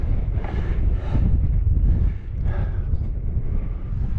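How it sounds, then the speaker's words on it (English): Strong wind blowing outdoors in the Lake District, loud continuous buffeting roar across the microphone with gusty surges, no voices. "it's windy as hell."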